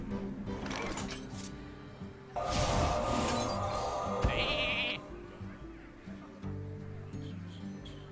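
A sheep bleats loudly in the Hearthstone card game after a polymorph spell, a wavering cry mixed with magical chimes and clinking spell effects, standing alone without speech.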